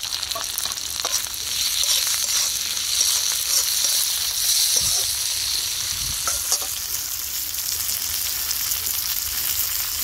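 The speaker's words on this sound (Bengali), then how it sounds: "এবার টমেটো দিয়ে দেবো আর কাঁচা পাকা লঙ্কাটা দিয়ে দিলাম।" Tomatoes and green chillies hit a pan of fried onion and garlic for an egg curry, producing a dense, loud, steady sizzle with light stirring knocks throughout.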